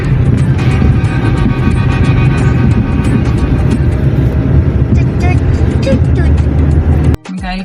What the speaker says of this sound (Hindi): मिकाइल गाड़ी चला रहा है.